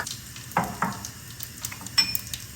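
Cumin seeds and spices sizzling and spattering in hot oil in a pan, soft crackling with a few sharp pops and spits, close and fairly quiet.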